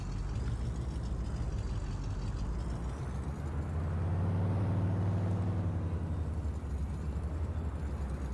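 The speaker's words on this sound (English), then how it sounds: "This old truck sounds good too." An old pickup truck engine in Farming Simulator 19, a low, steady droning rumble at moderate volume that swells slightly midway, with no talking over it.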